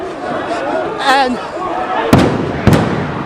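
Stun grenades detonate during a clash between riot police and protesting students outside parliament: two sharp, close bangs about half a second apart over a reporter talking and crowd noise.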